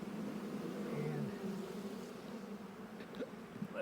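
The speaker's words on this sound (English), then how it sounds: "Plenty of bees in here" Honey bees drone in a dense, continuous buzz inside a newly opened brand-new hive colony, steady and close throughout with slight swells in pitch as individual bees pass near.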